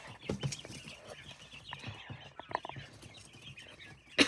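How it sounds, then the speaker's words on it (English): Quails in an enclosure holding about twenty birds, giving soft scattered clucks and chirps at close range, with a sharper, louder call at the very end. "We have 20 birds in here. I love these quails."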